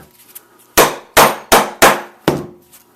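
A hammer strikes a metal tool held on a post with a 4x4 underneath while a leather edge burnishing tool is being made. Five loud, close, ringing clangs land at uneven intervals, each fading quickly, with no talking.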